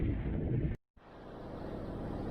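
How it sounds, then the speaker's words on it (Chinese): Strong gusting wind buffets the microphone during a motorhome road trip, a loud low rumble that drops out briefly to silence, then returns as steady blustery roar. "突然狂风大作"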